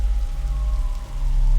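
Rain falling in the video game The Signifier, a steady soft patter with a low rumbling ambience underneath, continuous and moderately loud with no talking.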